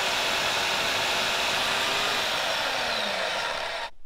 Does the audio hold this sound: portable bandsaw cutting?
yes